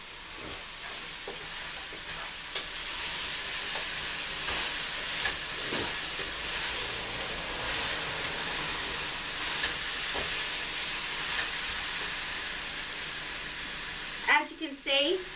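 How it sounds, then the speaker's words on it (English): Potatoes being stirred into leek soup in a pot, a steady close hiss and bubbling with soft scraping stirs running throughout, and a brief voice right at the end. "going to add all of this potato to the pot. I'm going to stir it up."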